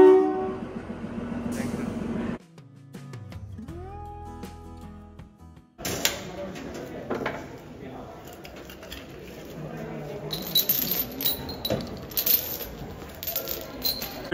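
Rail noise with clanking and a sudden loud burst partway through, a train horn blaring among metallic rattles during a train inspection before departure, continuing over a busy, noisy background.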